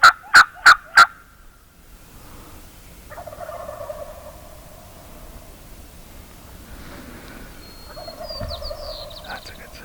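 Wild turkeys gobble from their roost trees at dawn, four loud, close gobbles in quick succession opening the clip, followed by quieter calls and soft rustling further off.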